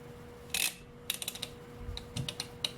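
A stitch-length control on a Brother American Home Deluxe sewing machine is turned, giving a quiet series of close mechanical clicks and ratcheting ticks, one sharper burst followed by several small irregular clicks.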